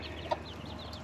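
Hens clucking close by while they eat, soft low murmuring clucks with a brief louder cluck, no voices.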